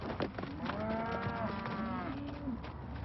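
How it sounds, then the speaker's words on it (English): A single long, low moo from a cow nearby, drawn out and wavering over a few seconds. "This cattle's kind of new, still getting used to having humans around."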